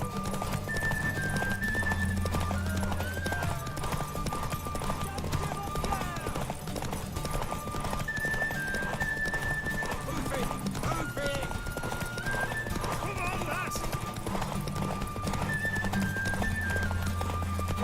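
Horse hooves clip-clop steadily while a horse neighs and whinnies a few times in The Witcher 3, with game music and occasional voices underneath.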